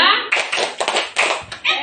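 Rhythmic clapping game with a group of adults at a school session, a short spoken cue giving way to a burst of crisp, loud claps in clustered beats with brief gaps.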